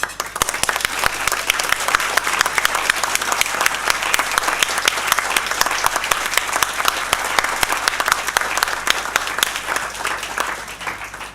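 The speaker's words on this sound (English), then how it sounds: "I'm going to ask you to stand up so we can thank you with our applause and cheers." A room full of people at a bar association's annual meeting breaks into sustained applause with scattered cheers, dense and loud throughout.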